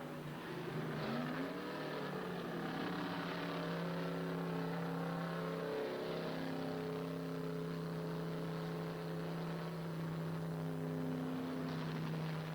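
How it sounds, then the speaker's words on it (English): 1970 Trans Am race cars at Watkins Glen, a faint engine roar from several cars down the pit straight, rising and falling in pitch as they accelerate and pass at a distance. "Fulmer and Donahue roar down the pit straight"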